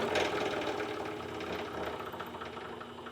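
DeWalt DW788 variable-speed scroll saw running with its blower, a steady rapid mechanical chatter and whirr, fairly quiet and close with no talk.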